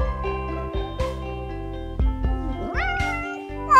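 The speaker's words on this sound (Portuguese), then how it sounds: "É um gatinho!" A cartoon kitten meows in high, wavering cries over bright background music, with a few playful sound effects around it.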